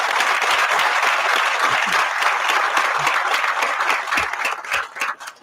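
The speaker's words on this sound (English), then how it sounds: "Can we give them a beautiful round of applause?" Audience applause for a band and ROTC at a Charter/Spectrum broadband access celebration, a loud sustained crowd of clapping that thins out over the last second.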